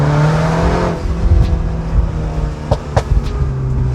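A Mini Cooper S accelerates hard in second gear, its engine note climbing loud and close, then easing off into a few sharp exhaust pops and crackles.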